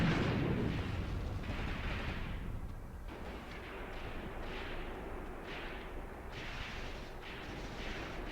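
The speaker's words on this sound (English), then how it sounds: "Oh, they have a heavy machine gun here as well." Heavy machine gun fire in the wartime tactics game Graviteam Tactics, set around Kharkov in 1942, rolls on as a continuous dense rumble of distant battle noise with repeated bursts, heard alone without talk.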